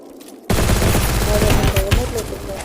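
Cobra MP40 gunfire bursts loudly in a shooting video game. A sudden onset leads into sustained rapid automatic fire that rattles continuously for about two seconds, with faint sounds behind it.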